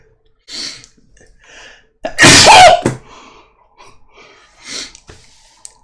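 A single loud, close sneeze bursts out after a sharp inhale, framed by quieter breaths and small mouth noises before and after.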